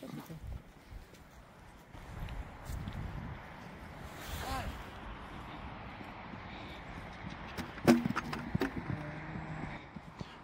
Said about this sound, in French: le cheval prend automatiquement le galop à la réception